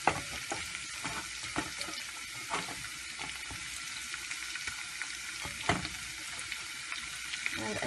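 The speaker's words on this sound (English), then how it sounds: "I'm going to just fry them very lightly." Marinated, already-cooked shrimp frying lightly in a pan for shrimp biryani, a steady soft sizzle broken by occasional stirring scrapes and clicks, fairly quiet and close with no talking.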